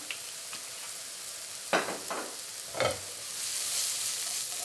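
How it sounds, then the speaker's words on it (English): Mushrooms fry in oil in a pan with a steady, close sizzle that builds toward the end, broken by a couple of brief stirring scrapes. "This is probably going to take 2 minutes or so until I get golden texture on my mushrooms."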